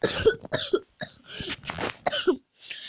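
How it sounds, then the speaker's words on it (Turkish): Several dry coughs in a row from one nearby person, each a short burst separated by brief pauses. "Normalde öksürdüm susuzluktan."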